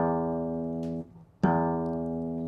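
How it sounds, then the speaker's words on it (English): A guitar string is plucked right near the bridge, giving a brighter tone rich in higher overtones; a first sustained note is cut off briefly, then a second sharp pluck rings on, close and alone. "If I pluck the string right at the back now"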